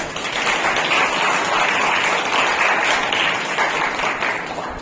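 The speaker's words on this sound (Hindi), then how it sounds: "तो एक जोरदार तालियां" An award ceremony audience gives Vijay Rajput hearty applause, a full, continuous roar of many hands clapping at a steady level that eases off only slightly near the end.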